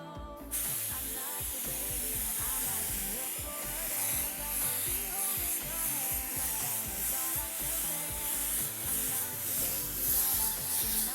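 Paint is sprayed onto an alloy wheel from a BMW M6 as a fine mist, giving a continuous soft hiss that runs steadily and fairly quietly from start to finish.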